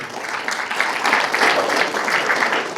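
A church congregation claps hands together, a dense, lively burst of many hands ringing out fairly close and loud throughout, with a slightly rhythmic swell, no voices standing out.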